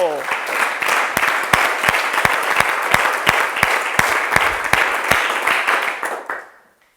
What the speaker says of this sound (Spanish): Dale un aplauso a Cristo, pueblo.